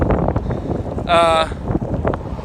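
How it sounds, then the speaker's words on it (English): Steady wind noise buffets the microphone throughout, a low rumbling roar under a person talking. "It's pretty windy up here."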